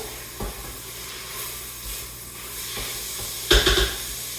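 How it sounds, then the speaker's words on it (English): Onions, bacon, beer, mustard, vinegar and garlic simmer in a one-pot cooker, with a soft sizzling hiss and a few stirring scrapes. A louder scrape comes near the end, and no one speaks. "I'm just going to give it some more stir over"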